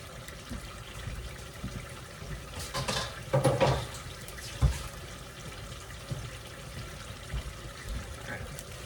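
Water runs from a kitchen tap into a sink as a steady close trickle and splash, with brief louder sloshing as a dish is set under the stream.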